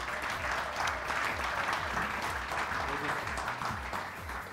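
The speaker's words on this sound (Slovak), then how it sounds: "Ja si myslím, že to si zaslúži aj jeden veľký potlesk ešte." Audience applause for an award winner at an awards ceremony, a dense, steady clapping of many hands that fills the hall throughout without pause.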